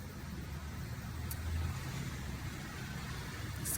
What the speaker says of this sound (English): excuse the noise, I live in the city